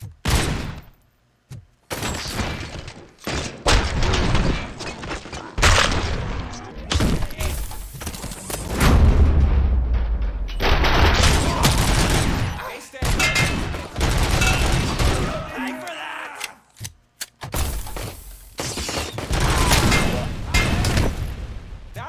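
Gunfire and crashing impacts in the RoboCop: Rogue City video game, loud dense volleys with booms and shattering, while characters shout and talk over the action.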